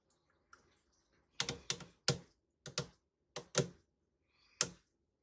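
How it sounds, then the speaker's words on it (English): Taut soap-cutter wires pressed down through a loaf of homemade soap, giving a series of sharp, close snapping clicks in irregular bursts of two, with quiet gaps between them and no talking. "And you hear those wires breaking through the bottom."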